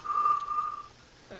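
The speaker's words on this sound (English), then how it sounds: "With the whistling, really?" A steady, fairly loud whistled tone holds one pitch for close to a second, then stops, leaving quiet room noise.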